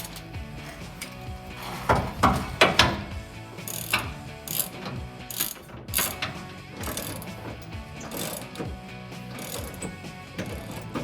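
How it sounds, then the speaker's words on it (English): A hand ratchet clicks in quick, uneven bursts as it loosens a bolt on a 2009-2018 RAM 1500 frame during a body lift install, the pawl ticking close by with short pauses between strokes. "through that hole is the last bolt we have to take out."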